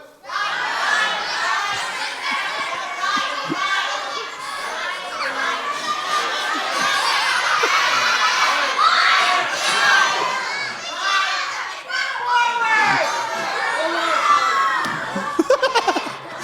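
A group of children yelling together on cue, a loud sustained chorus of shouts and cheers lasting many seconds, close and energetic.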